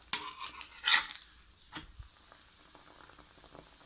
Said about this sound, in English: Flip to the other side